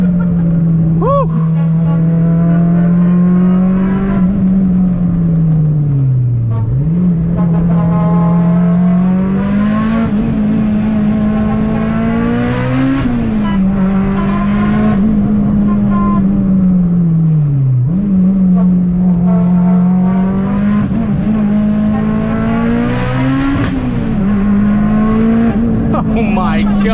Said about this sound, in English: That backfire was nuts.